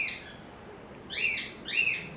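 Pigeons and their newly hatched squabs in a breeding cage in a loft aviary, with a couple of short high chirping calls standing out over quiet background noise.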